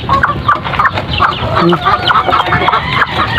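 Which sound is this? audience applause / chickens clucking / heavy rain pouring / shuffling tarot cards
chickens clucking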